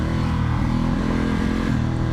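A Vyrus motorcycle of about 1100 cc, heard while riding: a steady, loud engine drone with dense low harmonics and slight shifts in pitch, close and continuous throughout.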